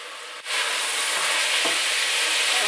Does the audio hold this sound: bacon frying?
yes